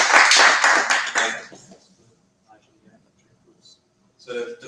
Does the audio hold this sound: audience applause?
yes